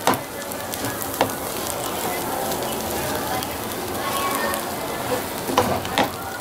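Puli upma with tamarind sizzles in hot gingelly oil, a steady close crackle with occasional sharper spits and pan clinks.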